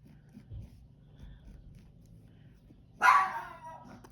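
A dog barks once, sharp and fairly close, after a stretch of quiet room noise, reacting to someone mowing a lawn nearby; the mower itself stays faint in the background.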